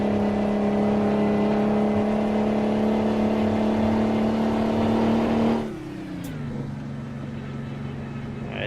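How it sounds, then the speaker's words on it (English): A truck engine in American Truck Simulator holds a loud, steady labouring drone, then drops abruptly in pitch and volume partway through and continues as a lower, quieter hum. "Yeah, this truck sounds like it's working so hard right now."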